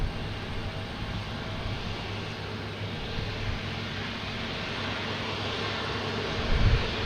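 An Alaska Airlines jet arrives at Boston Logan Airport, its steady, broad engine roar holding at a moderate distance throughout, with a low hum underneath and a slight swell near the end.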